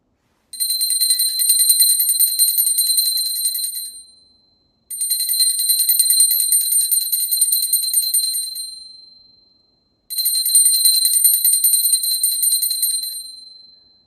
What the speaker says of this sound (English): Now, I take a bell to offer the element of sound.